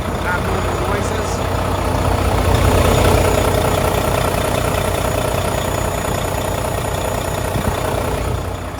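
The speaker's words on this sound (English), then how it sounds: "Engine sounds good, no abnormal noises." A 2014 Volvo VNL64T day cab truck with a D13 455 hp diesel engine idles close by, giving a steady, loud, low rumble that holds unchanged throughout.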